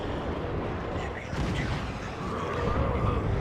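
Lascannon fire from Warhammer 40k: Dawn of War 2 rumbles as a dense, continuous wash of booming battle noise, loud and layered throughout with no clear breaks.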